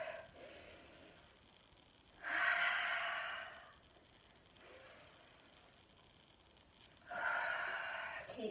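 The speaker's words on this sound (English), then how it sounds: "Keep breathing with the movement." Slow, deep breaths during a flowing yoga side stretch, two clear audible exhales spaced several seconds apart, close and soft against a quiet room.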